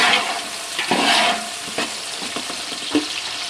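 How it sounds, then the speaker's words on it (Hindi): Onions for a Punjabi chicken pulao sizzle steadily in hot oil while being stirred, a close, continuous frying hiss with occasional scraping stir strokes and no talking. "प्याज शामिल करके इसे मिक्स करें और इसे मैं गोल्डन ब्राउन होने तक पकाऊंगी"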